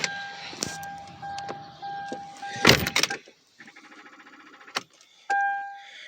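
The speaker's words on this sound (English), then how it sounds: "The battery's flat, so I'm going to try starting it up one more time." A car with a flat battery failing to start: steady electronic warning chimes, a few dull clicks and a loud clunk, then a brief rapid ticking, all close and with no talking.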